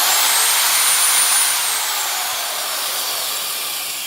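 A Milwaukee 8600 heavy duty tapper drill with a 3.2 amp motor runs free, a steady high-pitched whine and whir that slowly winds down in pitch and loudness, with no voices.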